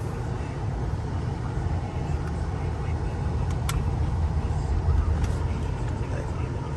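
Steady road rumble and engine hum inside a 2003 Lexus LS430 with a 4.3-litre V8 and rear-wheel drive, cruising on a test drive, constant and fairly loud with faint cabin clicks.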